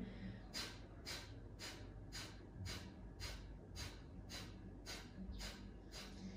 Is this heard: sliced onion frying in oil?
no